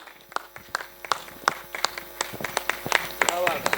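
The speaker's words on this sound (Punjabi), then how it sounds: "ਇੱਕ ਵਾਰੀ ਜ਼ੋਰਦਾਰ ਤਾੜੀਆਂ ਪਲੀਜ਼" Applause from an audience greeting an artist at a film press event, a run of sharp, irregular claps that grows denser toward the end, with speech heard over it.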